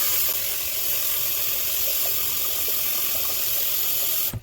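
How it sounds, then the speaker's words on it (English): Water pours steadily from a kitchen tap into a pot of potatoes, a loud, continuous rushing gush close by that cuts off abruptly at the end. "And I'm going to cover with water."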